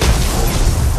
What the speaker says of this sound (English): Oh god, explosions.